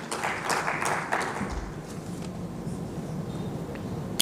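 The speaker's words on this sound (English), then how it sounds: "You can give a round of applause, please" Audience applause at a tourism expo sustainability seminar, a brief burst of scattered clapping from a seated crowd that quickly thins into room murmur and faint noise.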